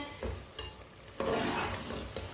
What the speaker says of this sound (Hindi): अब पालक को 3-4 मिनट के लिए ऐसे ही पका लेंगे तेज़ आंच पर।